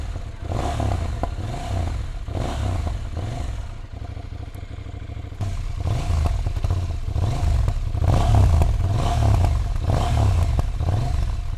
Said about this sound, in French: Ce bicylindre LC8C, 947 cm3. Alors il développe 130 chevaux et 103 Nm de couple. Franchement, il a vraiment une belle sonorité.